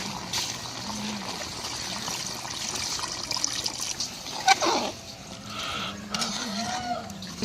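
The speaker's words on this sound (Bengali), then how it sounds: "কষানো হয়ে গেছে, পরিমাণ মতন জল দিয়ে দেবো।" Water is poured into a pot of slow-fried meat curry, giving a soft trickling and splashing that swells briefly midway before settling into a low background.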